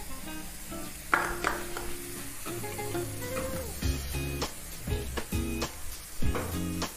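Onions and chopped green chillies fry in a pan, a steady sizzle under repeated stirring clatter and scrapes from a spoon, close and moderately loud throughout, with no talk.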